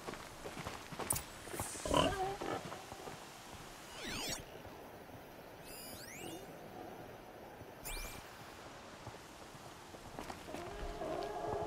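A pig snorts and grunts in the video game Horizon Zero Dawn, faint, sporadic and low, with brief sharp effects and a quiet ambient bed behind it.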